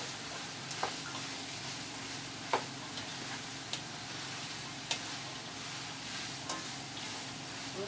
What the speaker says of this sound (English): And my seasoning and small salt. And stir it very well.